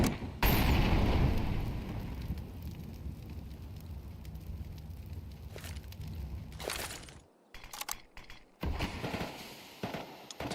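Bursts of AK rifle fire in a Counter-Strike pro league match, loud and dense at the start, then rattling on in rapid volleys with short pauses near the end, no talk over it.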